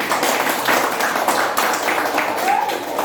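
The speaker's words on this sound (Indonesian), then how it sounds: "Tepuk tangan untuk kelompok yang pertama, anak-anak." A sixth-grade class applauds the first group of students, giving steady, busy clapping from many small hands that fills the whole stretch at a moderate level, with classroom voices mixed in.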